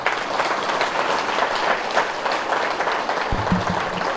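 An audience at a Patriji birthday celebration in Bodhan claps loudly and steadily for a speaker, a dense wash of hands with a brief low thump near the end.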